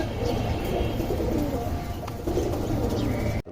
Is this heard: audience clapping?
no